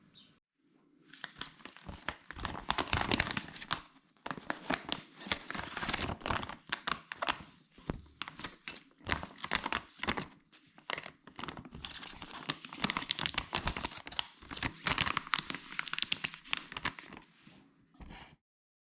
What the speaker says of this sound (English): Peel off the adhesive strip and seal along the dotted line.